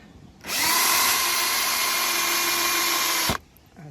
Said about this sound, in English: So now I'll just do up the screws and that bit's in.